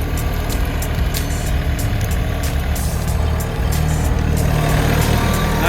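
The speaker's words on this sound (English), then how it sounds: "it was time to jump back on the tractor and continue on with the outbuilding cleanup" A tractor engine idles steadily at close range, a loud continuous low rumble with faint rhythmic ticking, running alone without voices.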